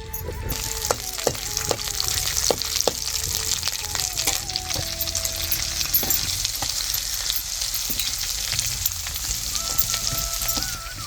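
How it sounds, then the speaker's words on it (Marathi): Ginger and garlic tempering sizzles steadily in hot oil in a kadhai for a village-style drumstick masala, a dense continuous hiss broken by sharp spatter pops and the odd clink of a spoon, with no talk. "अद्रक लसूण फोडणी टाकीते"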